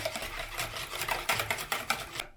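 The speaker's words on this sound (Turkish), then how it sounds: "Bunları şimdi bir güzel homojenleşene kadar çırpacağım." A whisk beats a batter of lor curd cheese for a potato cake in quick, rhythmic scraping strokes against a bowl, each stroke a brisk close-up swish, with no talking.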